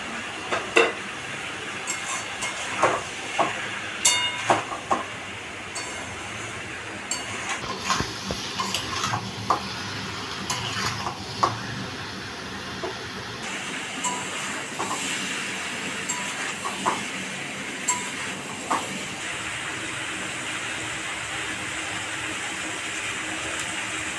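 Soybean chunks fry in a pan for a potato, soybean and papaya curry, a continuous hiss and sizzle with repeated scraping and stirring clatter close by.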